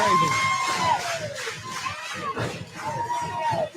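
A wrestling event crowd roars and cheers loudly throughout, with shouts and whistle-like cries rising and falling, while commentators talk over the noise.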